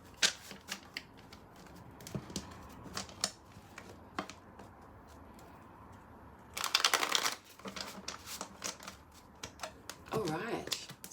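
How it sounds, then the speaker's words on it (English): A deck of tarot cards is shuffled in quick riffling bursts, with a longer flurry near the middle and another toward the end, between softer handling clicks and a faint background hum. "we'll do a quick shuffle"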